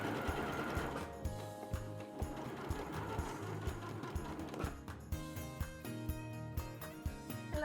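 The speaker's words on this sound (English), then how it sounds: "I'm just sewing the trim now to the V section on the blouse" A sewing machine sews trim onto the V section of a blouse made from a recycled man's shirt, producing fast rhythmic clacking stitches that speed up and slow in bursts, close and clear, with no talking.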